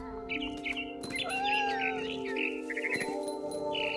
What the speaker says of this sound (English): Then I heard chirping outside my window. It was a barn swallow